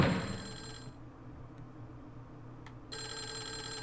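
An old telephone bell rings in the Clock Tower video game, a bright electronic ring that stops after about a second, then resumes near the end over a low background drone, fairly quiet and without talk.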